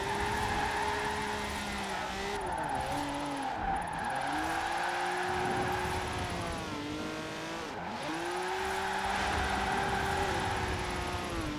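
A Honda NSX-R drifts in Forza Horizon 4, its engine holding a steady high note while the tyres squeal continuously, with the pitch dipping and rising as the car shifts between slides.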